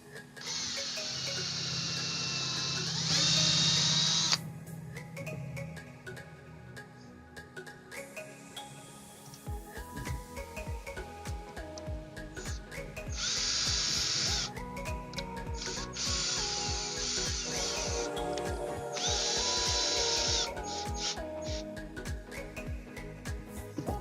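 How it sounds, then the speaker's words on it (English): A power drill whirs in several separate bursts, driving screws into a wooden side table frame, with clicking and handling noises in the quieter stretches between them. "Now I'm screwing in one side first, just so I have more mobility to screw in the rest."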